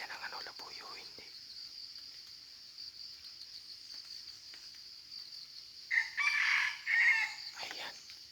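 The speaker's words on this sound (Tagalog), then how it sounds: "Ayan, maririnig nyo mga kanter." Gamecock roosters crow near the end, a couple of close hoarse calls rising over a steady outdoor insect chirr, with faint low murmuring earlier.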